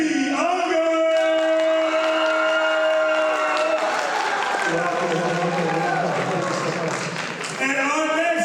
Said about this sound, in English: Round of applause for Ms. Kennedy Younger